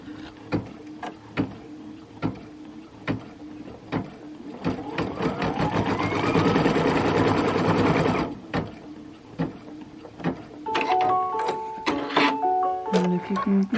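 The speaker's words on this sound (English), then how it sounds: "So I'm going to stitch my tack down line." An embroidery sewing machine stitches a tack-down line, a rapid mechanical whir that swells for a few seconds amid clicks and handling noises, close by, with someone talking quietly around it.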